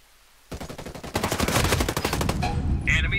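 Gunfire in the video game Ghost Recon Breakpoint during a player-versus-player match: a single sharp shot, then a loud rapid automatic burst that runs to the end of the clip, close and dominant.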